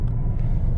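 A 2024 Chevrolet Trailblazer AWD LS idles steadily right after starting, a low continuous engine rumble that sounds close and fairly loud, with no voices over it.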